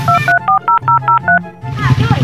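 Telephone keypad tones beep in a quick run of about eight evenly spaced presses, loud and close, set against a low room hum, followed by muffled ringing as the call connects.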